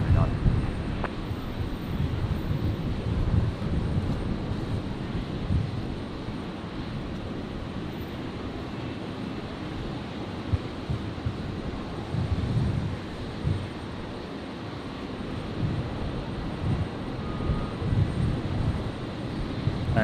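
A Virgin airliner accelerates on its takeoff roll on runway 01 right at Brisbane airport, a steady distant jet roar blended with wind buffeting, while a voice talks over it intermittently.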